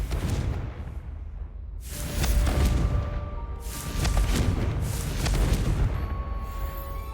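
A Confringo blasting spell explodes in the video game Hogwarts Legacy, sounding as a series of deep booming bursts with rumbling tails, several blasts in succession over a low background, with no talking.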